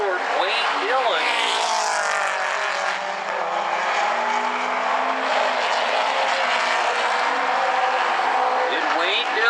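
Late model race cars roar around the South Sound Speedway in an FSCRA A-Main, a loud, sustained engine drone with rising and falling passes, under a race announcer's commentary.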